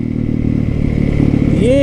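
A supermoto motorcycle engine drones steadily and loudly at close range, a rough mid-pitched rumble that rises slightly in pitch near the end.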